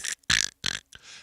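A man imitates a snore catch with a few choppy, throaty bursts separated by short silences, like a snore that chokes and stops. The sound is close and alone.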